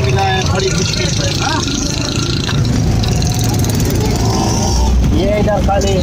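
An auto rickshaw engine runs during a ride through Karachi streets, a steady close rumbling drone throughout with someone talking over it.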